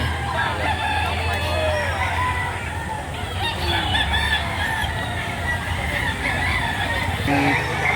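A rooster crows amid a busy gamecock market in Lipa, Batangas, with clucking fowl and background chatter, traffic and crowd noise layered continuously throughout.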